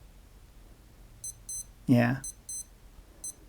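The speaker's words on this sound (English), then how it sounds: "just check to make sure your alarm beeper is actually working" A Casio W-800H digital wristwatch alarm in test mode gives short, thin, high electronic beeps in quick pairs and singles, fairly faint and close, with a brief spoken word in the middle.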